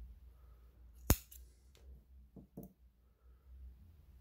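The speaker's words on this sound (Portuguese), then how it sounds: "Feito isso, uma correntinha já posso cortar." A single sharp snip of scissors cutting crochet yarn, close and crisp in a quiet room, followed by faint handling noises.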